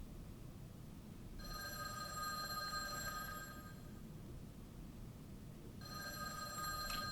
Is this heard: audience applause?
no